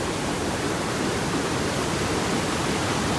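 The artificial waterfall at Dokuma Park in Antalya, a loud, steady, unbroken rush of falling water with no voices.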